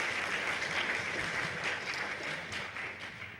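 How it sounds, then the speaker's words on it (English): A conference crowd at a Toorcon security talk applauds for a speaker, a dense sustained clatter of many hands that stays steady and then eases slightly toward the end. "But Tom, everyone, big round of applause for"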